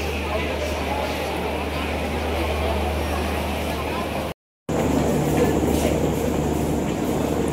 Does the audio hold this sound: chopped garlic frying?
no